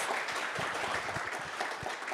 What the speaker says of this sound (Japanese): Please welcome Mr. 西内 with applause